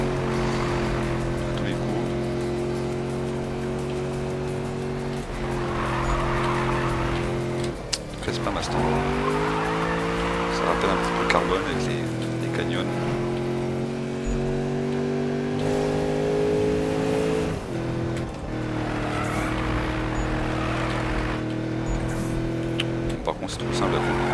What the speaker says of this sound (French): je freine, je fais un coup de frein, je tourne, hop, ça drift